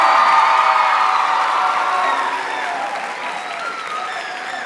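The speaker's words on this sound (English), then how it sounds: "Give it one more round of applause." Audience applause fills a school auditorium after a faculty recital during a high school fine arts week, a dense, steady clapping that stays loud throughout and eases slightly toward the end, with a few faint cheers mixed in.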